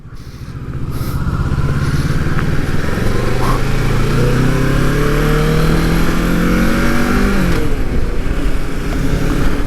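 A motorcycle cruising along a highway in the Philippines, its engine droning loudly and steadily near the mic, with shifting pitch as it revs and changes gear under strong wind rush.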